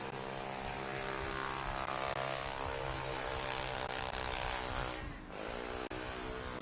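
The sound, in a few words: camera drone flying overhead at a UTV race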